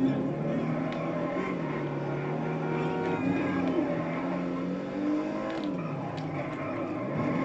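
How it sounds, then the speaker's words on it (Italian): Jester Classic sports car engine in GTA 5 holding a steady, droning rev with pitch rising and dipping slightly, loud and continuous throughout with no pauses. "No, comunque è veramente una bella macchina."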